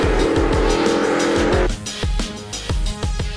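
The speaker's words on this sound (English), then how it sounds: "I'm driving 2 tons of metal at 150 miles an hour for 500 miles" A NASCAR stock car racing at around 150 mph, its engine roaring loud and close with rising, falling pitch sweeps and tire squeal, running continuously with no voices.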